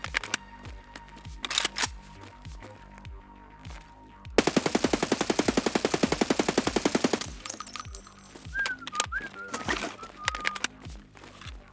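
An automatic weapon fires in a video game: a dense, rapid burst lasting about three seconds stands out amid scattered rhythmic clicks and steps, with short quieter shots before and after.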